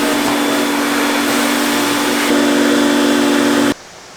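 A high-vibration vacuum cleaner sucks dust out of a mattress, a loud close whirring roar with a steady tonal whine that grows slightly stronger, then cuts off abruptly near the end.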